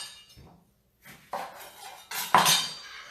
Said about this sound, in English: I'm gonna cut this lemon